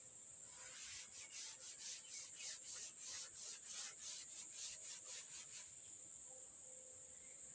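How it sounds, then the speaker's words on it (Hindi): A board eraser rubs chalk or marker writing off a classroom board during a physics lesson, giving a steady run of rhythmic scrubbing strokes, soft and close, with no talk over it. "तो अब देखिए इसको हम रब कर दें क्योंकि जगह तो बची नहीं है।"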